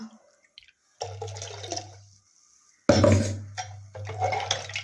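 Water splashes and trickles into a vessel for making rasam, in a few short bursts with brief pauses, close by, with no talking.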